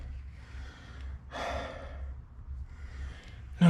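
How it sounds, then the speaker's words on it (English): Heavy breathing from a person working under a 1976 Celica GT while fitting a new fuel line, with two or three audible breaths including one sharp gasp, close and loud, and no words. "I have to excuse my heavy breathing."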